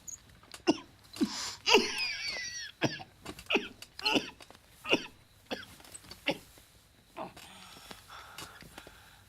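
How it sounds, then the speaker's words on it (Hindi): A person coughing over and over at close range in a quiet room, with dry, sharp bursts in an uneven rhythm, now and then clustered together, with no talking. "ये रात भर इतना खांसता है,"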